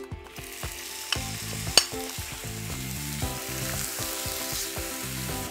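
Chopped onions dropped into boiling honey for a pumpkin chutney, giving a close, steady sizzle broken by repeated stirring scrapes and clatters of a utensil against the pan, with no one talking.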